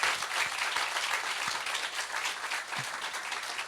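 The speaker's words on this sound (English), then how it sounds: "Applause, eh? Applause." Audience applause at a live sports talk event, continuous clapping from a seated crowd, moderately distant and even, with a few low thumps and no voices over it.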